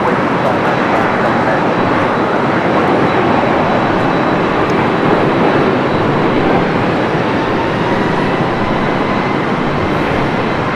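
Loud, steady broadband jet roar from a Boeing 787-9 Dreamliner in oneworld livery arriving from Tokyo Narita on approach to LAX, a dense continuous rumble that holds level throughout without letting up.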